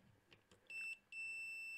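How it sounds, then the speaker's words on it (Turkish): A multimeter in continuity buzzer mode gives two steady electronic beeps, a short one then a longer continuous tone, high-pitched and clear against a quiet background with faint tapping, while probing a transistor's collector and emitter legs on an industrial circuit board. "Ölçü aletim buzzer modunda transistörün"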